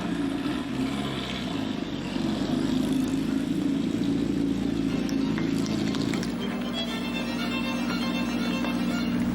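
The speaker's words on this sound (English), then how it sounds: "Our next Ferrari is going around the circle." A Ferrari supercar drives slowly around the show circle at a lakeside concours d'elegance. Its steady engine drone hums at moderate distance, with a shift in pitch partway through and outdoor ambience around it.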